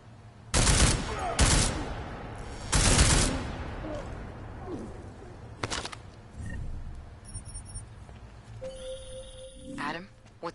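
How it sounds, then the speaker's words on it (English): Bursts of loud gunfire in a first-person stealth action video game: several sharp volleys of rapid shots, separated by pauses, with faint background effects and a few electronic tones near the end. "I'm getting reports of gunfire in Apex Center."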